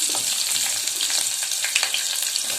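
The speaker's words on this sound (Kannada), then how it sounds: "ಸಾಸಿವೆ ಜೀರಿಗೆ ಚಟಪಟ ಅಂತ ಸುಲಿದ ಮೇಲೆ ನಾವು ಹೆಚ್ಚಿ ಇಟ್ಟುಕೊಂಡಿರುವ ಈರುಳ್ಳಿಯನ್ನು ಸೇರಿಸಿ" Chopped onions hiss and crackle in hot oil with popping mustard seeds and cumin, a steady close sizzle with scattered sharp pops throughout.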